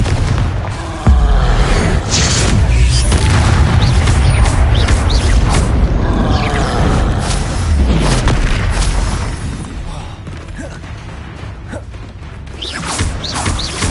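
A blasting curse in Harry Potter goes off as a loud, sustained booming explosion with rumbling debris and crackle that fills the whole stretch before tapering slightly near the end.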